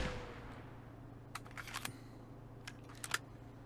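DP-28 machine gun hip fired without recoil control in the shooter game Marauders: two short, rapid bursts of sharp shots about a second apart, fairly faint over a low, steady hum, with no voices.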